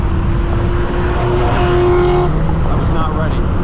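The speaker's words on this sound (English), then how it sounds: "here comes that Camaro. I guess we're about to get a race going here." BMW M6 racing a Camaro on the road, a loud, steady engine roar with a rising tone heard from inside the car, and voices talking over it.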